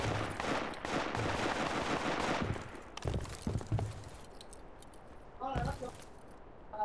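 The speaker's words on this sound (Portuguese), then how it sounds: "Eu dou 20 tiros, os caras tão vivos." Gunfire in the tactical shooter video game Project Reality 2, with bursts of rapid automatic shots and single cracks, loud and close, mixed with game noise and people talking.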